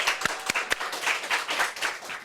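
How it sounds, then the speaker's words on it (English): An audience applauds a speaker at a talk, a dense burst of many hands clapping at close range with a few sharper individual claps standing out, sustained and fairly even throughout. "Give him a massive round of applause."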